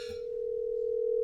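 A telephone dial tone sounds at the start of a phone call, a single steady pure hum held for about a second, loud and alone after a faint opening rustle.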